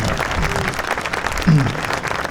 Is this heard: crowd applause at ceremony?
yes